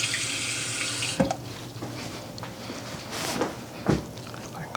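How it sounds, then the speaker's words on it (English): A kitchen tap runs steadily into a pan or sink while cooking fritters, a close, continuous splashing stream with a couple of brief clunks, no talk. "And then I think we're going to add a little bit of water."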